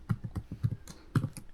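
Close, rapid keystrokes patter on a computer keyboard in a short run of soft thuddy clicks, with a brief pause before a final few taps and no talking.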